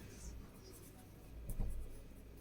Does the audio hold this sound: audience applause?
no